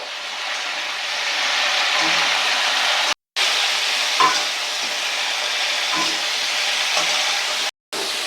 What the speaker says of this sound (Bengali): ফুলকপিগুলোকে হালকা লাল লাল করে ভেজে নিতে হবে